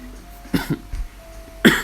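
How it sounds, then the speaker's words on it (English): A few close, sharp coughs from one person after a run, two quick ones followed by a louder single cough after a pause. "that coughing is from the run, kind of still feeling it on my chest"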